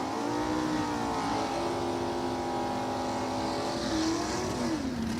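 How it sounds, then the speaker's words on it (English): Drag racing cars roar at a national trail race, a loud sustained engine howl with shifting pitch, heard from a distance without talk. "Ross is 45 under, Rock running at 66 under the index, so both drivers picking up a little bit there."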